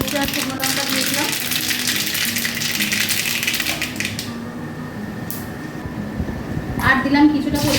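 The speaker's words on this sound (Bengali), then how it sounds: "এবার আমি এর মধ্যে দিয়ে দিলাম দুটো শুকনো লঙ্কা আর কিছুটা পরিমাণে সর্ষে।" Dried red chillies and mustard seeds sizzling in hot oil as a tempering for a banana-stem and prawn dish, a steady close crackling hiss that dips midway and swells again near the end.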